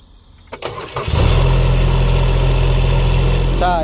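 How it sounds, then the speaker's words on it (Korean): A Kubota 1-ton excavator engine cranks briefly, catches and settles into a loud, steady diesel idle close by, with a voice heard around it. "자 그럼 한번 시동을 걸어 보도록 하겠습니다."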